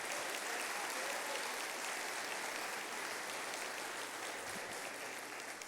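A congregation at a Presbyterian church celebration claps steadily, a dense, even applause that fills the room at moderate volume and tapers slightly near the end.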